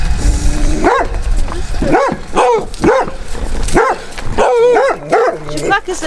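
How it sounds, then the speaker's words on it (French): A dog barks repeatedly near a church in a small French village, a string of sharp, close barks and yips in an uneven rhythm over outdoor background noise. "Un chien."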